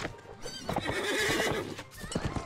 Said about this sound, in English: I can neigh the horse with my voice commands